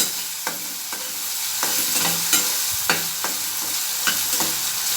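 Onion with salt sautéing in a pan for a bitter gourd curry: a constant sizzle punctuated by a regular series of crisp spatula scrapes and taps against the pan, close and clear, no talk.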